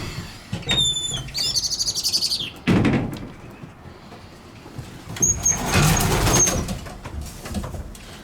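Racing pigeons let out of the loft, with sharp chirps and tweets near the start, brief bursts of wing and door noise, and a louder fluttering flurry late on, outdoors without speech.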